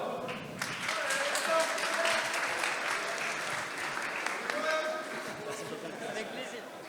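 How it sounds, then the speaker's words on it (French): Sustained audience applause fills a large hall at a pitch and networking event in Paris's Palais Brongniart, steady dense clapping with some crowd voices mixed in, swelling slightly then easing toward the end. "On t'applaudit bien fort."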